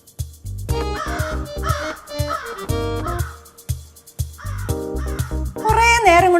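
A crow caws again and again in loud, close, repeated calls, with a rougher burst of calls near the end.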